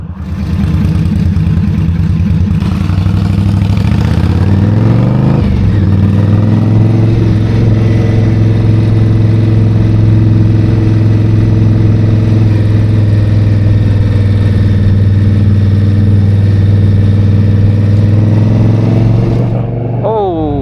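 Indian Scout Rogue motorcycle on a ride, a loud steady engine drone with a brief rev change early on, continuing close for the whole stretch before cutting off at the end.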